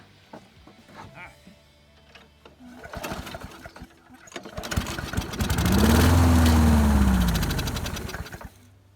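A lawn mower engine catches after a pull-cord start: clattering pulls and rattles give way to a sputtering engine that swells to a loud, steady roar and then eases slightly, with someone speaking briefly earlier.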